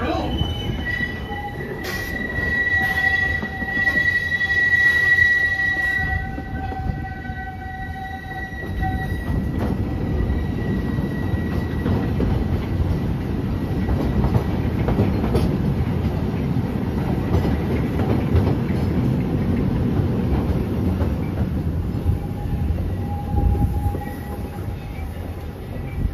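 A Big Thunder Mountain mine train ride rumbles and rattles steadily along its track, wheels squealing and clacking in a continuous loud roar, with no talk heard.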